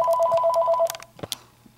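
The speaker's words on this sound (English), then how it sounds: "Is that my phone?" A telephone rings with a rapid warbling electronic trill that repeats for most of a second, then cuts off, followed by a few faint handling knocks in a quiet room.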